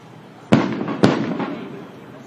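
Two sharp fireworks bursts explode about half a second apart, each followed by crackling decay, set off at a Monster Energy Supercross event in Anaheim; loud and close with a faint crowd murmur underneath.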